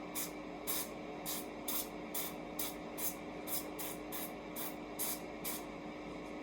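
A spray bottle fires about a dozen quick, hissing spritzes in a steady rhythm over crab rangoon before air frying, close by, over a faint constant hum.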